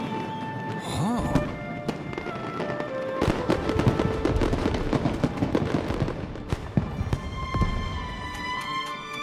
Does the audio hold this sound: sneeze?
no